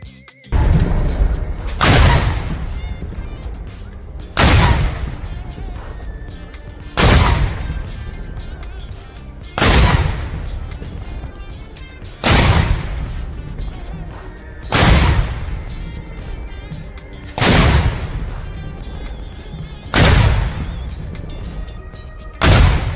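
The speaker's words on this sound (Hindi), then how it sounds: "राष्ट्रपति जी को 21 तोपों की सलामी दी जाएगी" A 21-gun cannon salute at the Republic Day parade full dress rehearsal on Kartavya Path, with nine loud booms at a steady interval of about two and a half seconds, each followed by a fading rumble.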